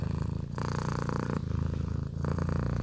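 Loud, continuous cat purr with a rhythmic pulsing rumble, close and steady while the cat is scratched, with brief breath breaks between cycles and no talking.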